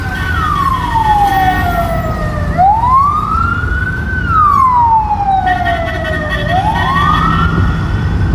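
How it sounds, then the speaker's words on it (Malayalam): An ambulance siren wails loud and continuous, sweeping slowly up and down in long rising and falling tones as it passes nearby. "അതാണ് ആംബുലൻസ് പോകുന്നുണ്ട്"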